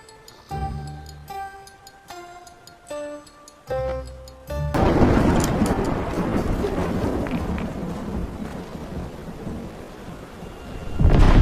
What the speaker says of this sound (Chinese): 千算万算，没有想到师傅的雷雨来得这么快。